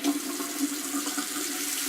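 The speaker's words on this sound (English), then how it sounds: "not hot, not tepid, but warm water." Warm water running from a tap into a sink, a steady hissing splash that is faint and continuous, with no voices.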